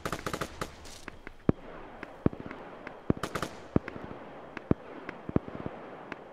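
Gunfire crackles in a military squad-based shooter game: a rapid burst of shots, then single sharp reports spaced a second or so apart, crisp and fairly near, with no talk.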